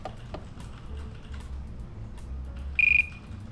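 A Magellan scale gives a single short, clear electronic calibration beep near the end, preceded by faint tapping and handling sounds.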